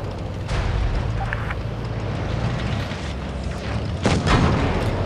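Tank cannon shots in the mobile video game World of Tanks Blitz, heard as several heavy booming blasts over a steady low battle rumble, with a voice talking faintly at times.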